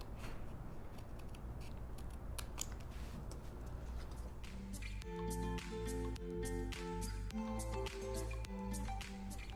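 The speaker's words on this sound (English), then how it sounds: "now I'm just going to go around my frame with my fine tip scissors" Fine tip scissors snip paper around a frame in quick, quiet, repeated cuts close up.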